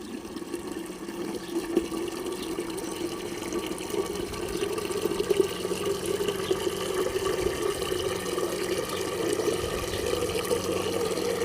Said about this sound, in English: we'll just go directly to the spigot and fill up